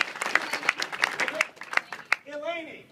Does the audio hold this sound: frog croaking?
no